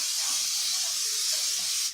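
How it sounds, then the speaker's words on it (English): Olive oil sprays from a can into a cast iron pan in one steady, close hiss lasting about two seconds before cutting off. "Spraying some olive oil"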